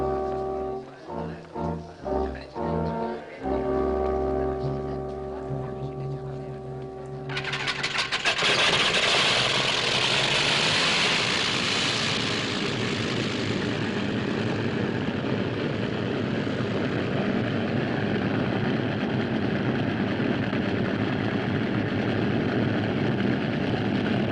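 A propeller aircraft engine sits idling on the ground while waiting for takeoff clearance. Sputtering bursts come first, then a loud, steady roar settles in and holds close and continuous for the rest of the clip.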